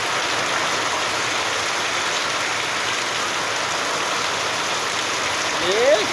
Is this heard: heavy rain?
yes